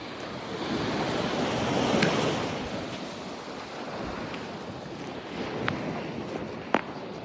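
Steady broadband surf washing onto a shell beach as the tide comes in, continuous and fairly loud with wind buffeting the microphone and a couple of brief sharp ticks near the end.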